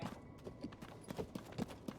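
Donkey hooves clip-clop in a steady, even rhythm in Zelda: Tears of the Kingdom, faint and continuous with no speech over them.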